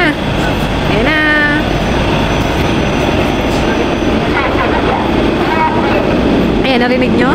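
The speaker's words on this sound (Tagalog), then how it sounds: "Yan na yung tren, parating na." A Renfe train pulls into a station in Madrid with a loud, continuous roar of wheels and motors, high squealing tones rising and falling over it, while a person talks over the noise.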